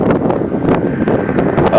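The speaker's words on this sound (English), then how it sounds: "Oh, it's a little windy." Steady gusty wind buffeting the microphone with a broad rumbling roar, loud and continuous throughout, with a few brief louder bursts.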